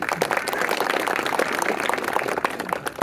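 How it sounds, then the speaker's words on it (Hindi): An audience at a patriotic speech claps in a dense, sustained burst of applause that stays loud and even throughout, with no voices standing out. "जोरदार तालियों से स्वागत करना जो है।"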